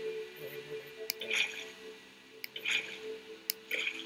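Soft wet squishing drops of water being placed in Minecraft land in short clusters every second or so over steady background music, small and close.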